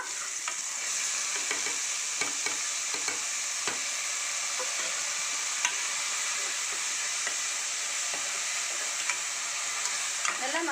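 Masala with tomato for mutton gravy sautéing and being stirred in a pan, a steady close sizzle with scraping strokes throughout and no talk.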